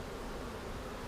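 A large swarm of honey bees outdoors, producing a dense, continuous buzzing drone that holds steady and close through the whole short moment.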